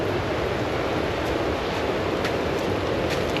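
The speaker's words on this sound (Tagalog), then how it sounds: "Mahangin, libre ang hangin kahit wala na electric fan." Wind blows steadily outdoors in a breezy rural spot, a loud continuous rush buffeting the microphone with faint scattered knocks, and no voices.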